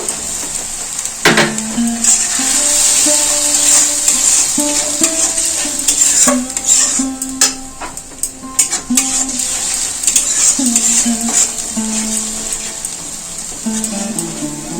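Onion frying in a pan with ground ginger and green chili added, a steady sizzle under repeated close clinks and scrapes of a spoon stirring against the metal, with no talking.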